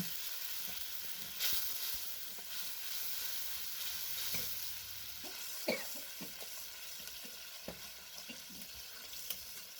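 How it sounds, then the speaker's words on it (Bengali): Spice paste with chili and turmeric powder sautéing in a pan for an egg curry, a steady close sizzle with scattered scraping stirs and a few sharper clinks of the spoon, no voices. "এবারে সব মশলা খুব ভালো করে কষে নেব"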